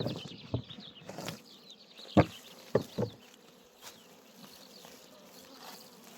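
Honey bees buzz quietly around opened hives, a faint hum broken by a few sharp close wing flutters and passes.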